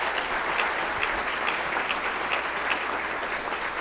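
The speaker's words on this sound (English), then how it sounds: "So a big round of applause for our 4 orchestra kids." An audience at a school community presentation applauds for orchestra students, a steady, dense patter of clapping at a moderate distance.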